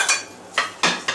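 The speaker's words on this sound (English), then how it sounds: "Veg coming out of the oven." A metal pan of roasted vegetables is pulled from the oven, giving a few close clanks and scrapes of cookware against the rack, with no talking.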